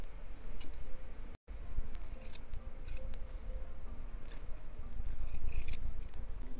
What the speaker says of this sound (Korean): 시접을 짧게 잘라줬어요.